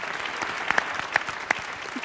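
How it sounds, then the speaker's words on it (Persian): A small audience claps in brief, steady applause, loud and close, with a few sharper individual claps standing out. "خدا وکیلی تشویقش کنید"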